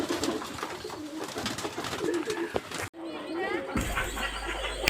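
Giribaj pigeons on a small farm coo while pecking at soil, a soft, continuous burble close by, mixed with talking and some rustling.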